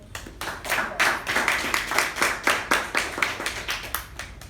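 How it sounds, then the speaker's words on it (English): An audience at a speaking-club meeting gives a round of applause, a close, lively burst of many hands clapping in quick uneven rhythm that stays steady for several seconds. "So a round of applause for."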